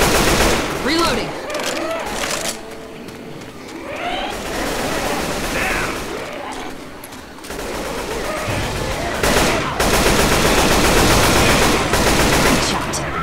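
Rapid, loud automatic weapon fire from the zombie shooter Left 4 Dead 2 during the Death Toll church survival map, with dense bursts and short lulls across the stretch and players talking over the shooting.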